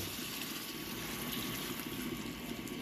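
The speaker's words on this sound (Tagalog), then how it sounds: "At lalagyan natin ng 2 basong tubig." Water poured into a cooking pot holding sautéed garlic and tomato, a steady continuous gushing wash at low level with no voices.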